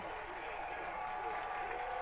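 A high school football crowd at a Castle versus Evansville Mater Dei game in Indiana cheers and applauds, making a steady, dense roar of noise with no breaks for the whole stretch.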